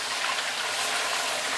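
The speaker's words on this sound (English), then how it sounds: "it's raining outside, like outside my house right now" Steady rain falls outside a house, a continuous hiss of dense drops at moderate level with no talking over it.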